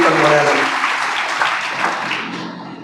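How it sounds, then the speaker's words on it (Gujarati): Students applaud loudly in a Swaminarayan hall in Bodeli for a collector during a motivational talk, a dense, sustained wash of clapping from a large crowd that holds steady, then gradually thins toward the end. "એટલે મેડમ માટે આપણે એક જોરદાર તાળી પાડવી જોઈએ."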